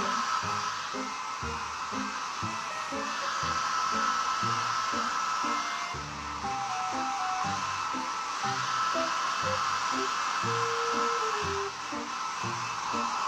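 A hair dryer blows steadily with a loud, constant whirring hiss, running nonstop with slight shifts as it moves, with faint clatter underneath.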